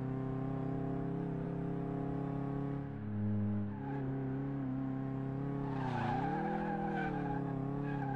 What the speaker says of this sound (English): Looks like more like drifting or something.